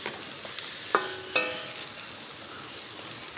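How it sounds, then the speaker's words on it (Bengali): Bitter gourd and potato fry with roasted cumin powder in a pan, a soft, continuous sizzle broken by a few sharp scrapes and clinks of stirring, close by with no talk. "ভাজা জিরের গুঁড়ো দেওয়ার পরে আরও 2 মিনিটের মতো ভেজে নেব"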